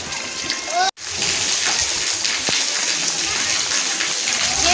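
Steady rain pours down with splashing water, a dense hiss that fills the whole scene. One brief sharp break comes near the start, and faint voices sit beneath the downpour.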